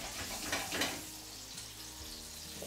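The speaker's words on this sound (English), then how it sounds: "So that's the sound. There we go, as it starts to fry." Partridge frying skin side down in a hot pan, a soft continuous sizzle with brief louder crackling bursts early on, then settling into a quieter steady fry.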